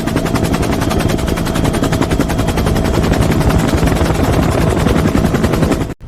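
A military helicopter flies in a war film, its rotor beating in a fast, loud, unbroken rhythmic chop close by for about six seconds before cutting off abruptly.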